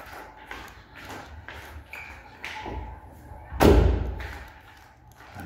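A passenger-side car door is swung shut with one solid, loud thud, set among a few lighter taps and clicks in a quiet space.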